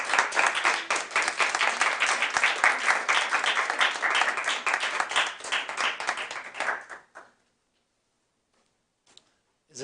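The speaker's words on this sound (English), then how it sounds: "I want everyone to give Norman another round of applause." Warm, sustained applause from a party audience after a reading, many hands clapping densely for about seven seconds before fading out to near silence.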